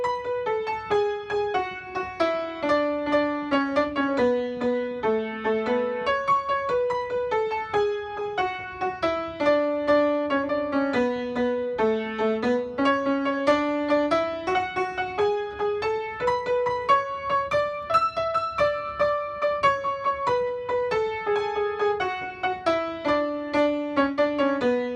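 A piano plays a song with the melody doubled in octaves and alternating triplets, a steady stream of clear, rhythmic notes rising and falling, played alone with no talking.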